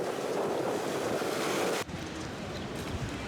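Heavy sea waves crash on the Mykonos shore below six windmills. The surf is a loud, steady wash mixed with wind, then drops off sharply partway through and continues more quietly. No one speaks.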